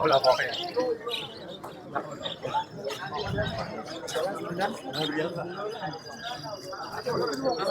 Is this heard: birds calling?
yes